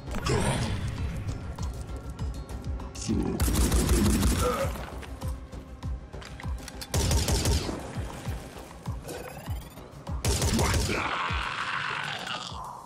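Turret gunfire in the video game Phoenix Point: several loud bursts of rapid automatic fire mixed with dense battle effects, whooshes and grunting voices, continuous and busy throughout.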